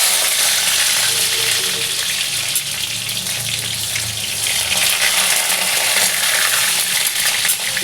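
Ginger paste, chili powder, homemade garam masala and tomato sizzling loudly in hot oil for vegetarian ghugni, a continuous dense crackle with faint stirring beneath.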